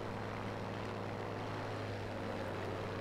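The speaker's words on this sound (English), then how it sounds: "Oh shit, two planes there." Propeller airplanes in the video game Battlefield V drone overhead, a steady, dense engine roar that holds throughout without clear breaks.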